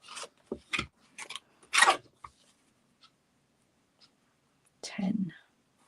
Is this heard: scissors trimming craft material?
yes